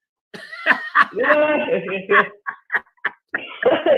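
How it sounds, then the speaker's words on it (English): A series of short, husky coughs broken up by a voice, close and fairly loud, with a throaty laugh-like quality. "excuse me for all the coughing"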